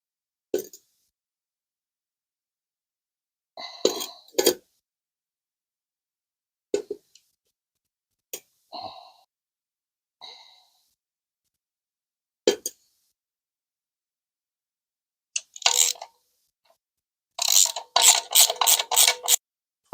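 Oiled bolts being started into a transmission flex plate give sparse, sharp metallic clicks and short ratcheting bursts spread apart by silence, with a quick run of rapid ratchet clicks near the end.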